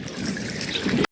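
Water trickles and splashes steadily as laundry is rinsed by hand with detergent powder in a home yard, ending in a short silent gap and then a brief burst of water.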